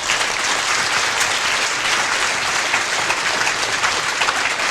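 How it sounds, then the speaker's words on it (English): Loud, dense applause from a large conference audience, a continuous roar of many hands clapping close and steady throughout with no break or talk. "I really want a round of applause for what you've done"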